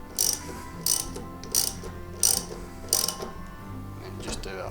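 A ratchet tightens a thermostat diverter cartridge in short bursts, five quick clicking strokes spaced about half a second apart, close and distinct, with faint background noise between them.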